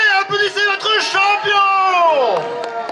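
A crowd at a medieval festival in Saint-Renan cheers, whoops and claps for a champion, with loud overlapping shouts and voices close by throughout.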